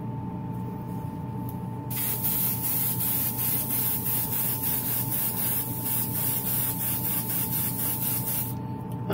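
A spray can of primer coats parts of a Batman figure prototype, a loud steady hiss starting after a short pause and running nearly unbroken, with faint pulsing as the nozzle is pressed.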